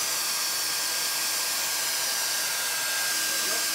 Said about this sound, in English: But this means I have to keep on hoovering.